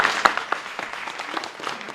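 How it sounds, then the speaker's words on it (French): A studio audience on a French reality show applauds after contestants' projects are judged, steady mid-level clapping from many hands with a sharp louder clap near the start. "On peut les applaudir, merci à vous."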